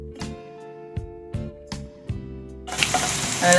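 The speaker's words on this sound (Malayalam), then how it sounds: "ഒരു പാൻ അടുപ്പത്ത് വെച്ച് അതിലേക്ക് ഒരു മൂന്ന് ടീസ്പൂണ് ഓയിൽ ഒഴിച്ചു കൊടുക്കാം അതിലേക്ക് നമുക്ക് വെളുത്തുള്ളി ഇട്ട് കൊടുക്കാം" Garlic hitting hot oil in a pan on the stove: a few soft clatters as the cloves drop in, then a loud, steady sizzle rising near the end, with no talking.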